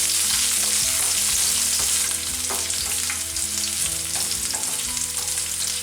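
Shallots and onions sauté in hot oil for a Kerala-style winter melon (kumbalanga) curry, giving a steady, close, dense sizzle with occasional stirring scrapes throughout.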